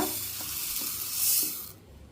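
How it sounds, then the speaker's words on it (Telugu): Toor dal being dry-roasted in a warm iron pan gives a soft, steady sizzle with faint scraping stirs every half second or so. It is close and fairly quiet, and nobody talks. "ఫస్ట్ కందిపప్పు టూ గ్లాసెస్ కందిపప్పు వేయిస్తున్నా నేను"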